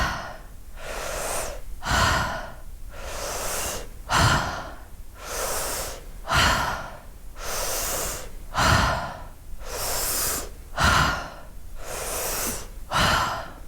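Repeated deep yoga breaths follow a steady rhythm, with forceful close inhales and released exhales alternating in loud airy bursts about every second, with no speech.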